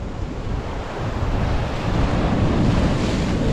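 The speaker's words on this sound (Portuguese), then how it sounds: "Parece que o mar tá aqui em cima" Sea waves surge onto Boa Viagem beach in Recife during a high tide, a continuous broad roar of surf that swells louder toward the end, mixed with gusty wind buffeting the microphone.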